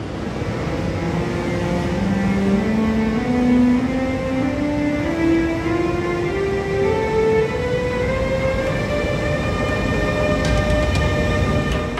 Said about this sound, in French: Voici à côté de moi un DPZ. Attention à ne pas confondre avec les DTZ qui eux ont une face arrondie.